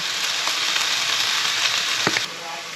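A loud, steady sizzle of food frying in a hot pan as chili is chucked in, with a brief soft thump near the end, close up with no talking.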